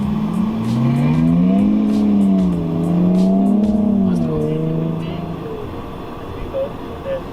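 A car engine rises and falls in pitch as a four-wheel-drive vehicle slides on snow during an avoidance exercise, loud and close with wavering revs that settle toward the end.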